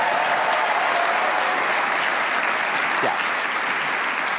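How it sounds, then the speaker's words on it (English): Audience at an awards show in a hotel function room applauds steadily and loudly, continuous dense clapping from a large crowd with a faint whistle near the end. "Please clap, thank you."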